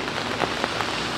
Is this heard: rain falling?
yes